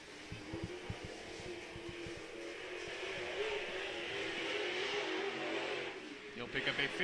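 A late model race car laps the track during qualifying, its engine a steady mid-pitched roar from some distance, heard under an announcer's continuous commentary.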